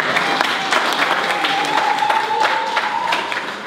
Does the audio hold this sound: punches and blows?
no